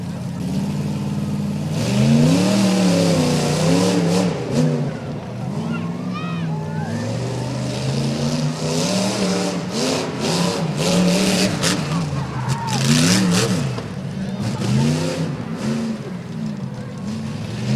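Off-road rough trucks race around a rough dirt course, engines revving and rising and falling in pitch continuously through the whole stretch, loud and near, with a commentator talking over the racing.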